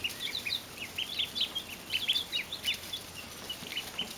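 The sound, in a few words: chickens clucking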